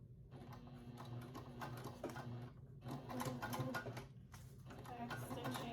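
A sewing machine back stitches on a fabric book bestie, its needle running in quick rapid bursts separated by short pauses, heard up close.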